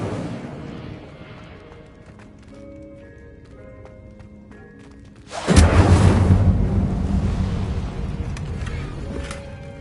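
An Incendio fire spell cast in Hogwarts Legacy: a sudden loud whooshing burst of roaring flame cuts in midway over galloping hoofbeats and game noise, then a sustained crackling rush that slowly fades.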